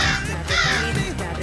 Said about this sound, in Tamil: என்னடா காக்கா வாய்ஸ் வருது?